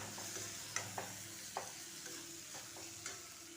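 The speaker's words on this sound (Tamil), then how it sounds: "தேங்காயும் வெங்காயமும் ஓரளவு வதங்கி வரணும், அது வரைக்கும் வதக்கிக்கோங்க" Coconut, onion and tomato sauté in a pan, a soft steady sizzle with occasional faint scrapes and taps of a stirring spoon, close and quiet with no voices.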